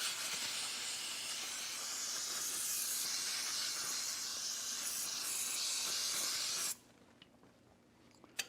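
Brake fluid sprays in a long, steady, close hiss to clean a metal part during a Bridgeport machine restoration, then cuts off abruptly, leaving faint quiet handling noises.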